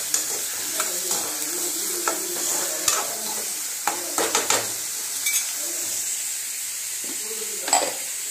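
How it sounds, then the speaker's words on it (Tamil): Onions frying in a pan with dried red chillies for pepper chicken, with a steady sizzle and repeated scraping stirs and spoon clinks against the pan throughout. "இப்போ வெங்காயத்தை போட்டுட்டேன். காஞ்ச மிளகாய் செவந்து வந்தவொடனே வெங்காயத்தை போட்டுக்கோங்க."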